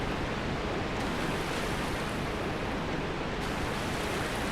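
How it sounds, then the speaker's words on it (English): A steady, dense rush of falling water from a waterfall in Dark Souls Remastered, a constant broadband roar at moderate level with no pauses and no voices. "There's another waterfall here as well."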